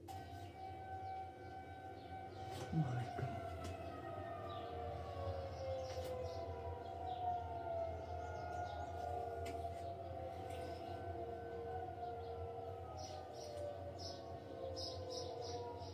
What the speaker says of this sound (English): Some people are saying that this is a tornado siren